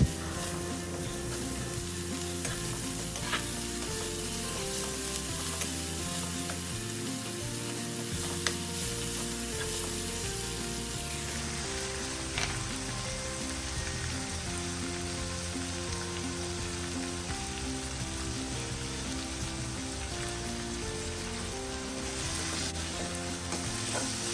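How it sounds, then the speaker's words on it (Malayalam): Onion, garlic and curry leaves sautéing with salt in a pan for a Kerala crab curry, a loud, steady sizzle with occasional stirring clicks and a faint high whine later on. "ഫ്ലെയിം കൂട്ടി വെച്ചിട്ട് ഈ ഉള്ളിയും വെളുത്തുള്ളിയും കറിവേപ്പിലയും ഒന്ന് വഴറ്റിയെടുക്കുക."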